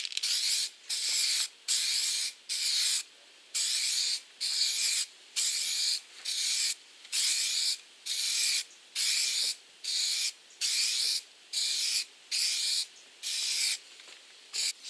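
Spray can applying clear coat over car paint, a steady series of close hissing bursts, each about a second long, separated by short pauses in an even rhythm.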